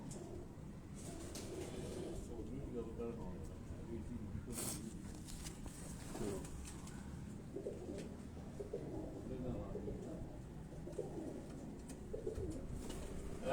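Flying pigeons of a Karachi breed coo on a rooftop, soft low coos repeating under faint background noise, with occasional wing flutters.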